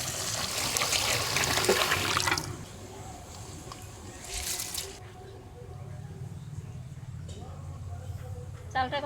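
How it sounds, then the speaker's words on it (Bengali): Rice being washed in water in a home kitchen for chicken biryani, with splashing and sloshing that fades, then quieter swishing and a brief tap-like rush, soft and close. "চালটা এখন ধুয়ে নেবো।"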